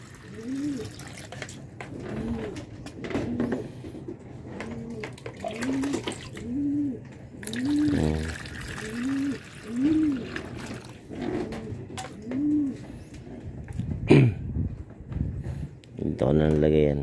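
Pigeons coo in a steady series of low, rounded calls under running water being poured for them, with a few louder clattering sounds near the end.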